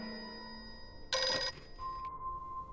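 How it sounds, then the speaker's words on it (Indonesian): A home landline telephone in a film gives a short, bright ringing burst lasting under half a second, set against a quiet scene with faint steady tones before and after. "Dan bersamaan dengan itu telepon rumah pun berbunyi."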